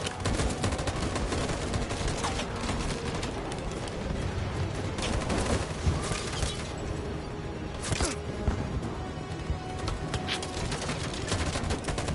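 Sustained heavy gunfire in Detroit: Become Human, a dense fusillade of rapid automatic shots crackling continuously and loudly for the whole stretch, with a few sharper bursts standing out.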